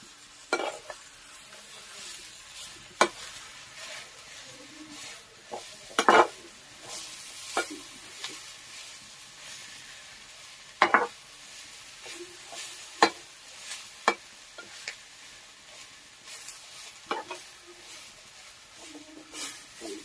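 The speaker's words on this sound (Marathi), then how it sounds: "भाजी टाकल्यावर आता मी हा डाळ टाकून घेणार आहे" Dal tipped into a pan of cooking wild medicinal greens with turmeric, giving a steady soft sizzle and stirring scrape, with sharp clinks of the spoon against the pan at intervals, close and moderately loud with no talking.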